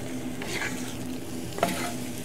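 Wooden spatula stirring scrambled eggs in a cast iron pan, a soft steady scraping over a low sizzle, close and quiet, with one brief sharper scrape near the end.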